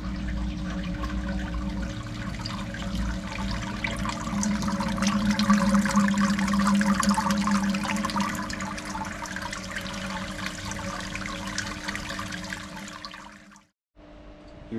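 Sparge water pouring and trickling through the grain during an ESB bitter brew day, a steady rushing flow with an underlying hum, close and constant for most of the time before cutting off abruptly near the end, no speech.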